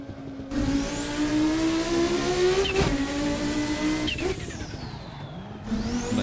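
Classic car engine in a sim racing game, all-wheel drive, revving up and down through gear changes with rising and falling pitch sweeps, loud and continuous, with braking moments and faint tire noise and no talk.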